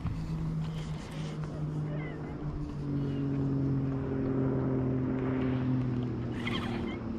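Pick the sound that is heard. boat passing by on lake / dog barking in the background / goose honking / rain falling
boat passing by on lake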